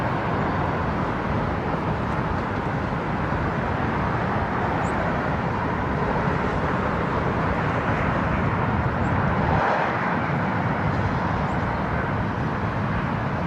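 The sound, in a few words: airliner from London landing at LAX, engines roaring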